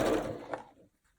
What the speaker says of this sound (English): So now I'm going to sew these two together.